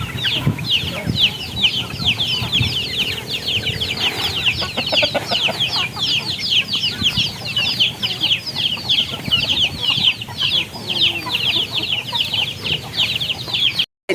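Chickens and roosters cluck loudly and continuously at a chicken farm, a dense flock chatter throughout with occasional wing flaps.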